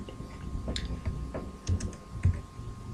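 Quiet typing on a computer keyboard while entering input for a C++ program, sparse irregular key taps with a few firmer clicks, close and alone.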